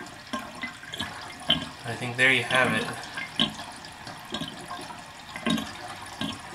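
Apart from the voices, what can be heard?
water draining and swirling down a sink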